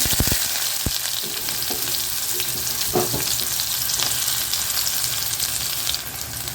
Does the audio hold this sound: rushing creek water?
no